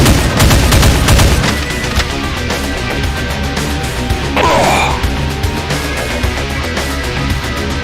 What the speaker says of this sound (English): He can charge up a super enraged plasmatic blast that can spread and fire multiple numerous enraged plasmatic cannon projectiles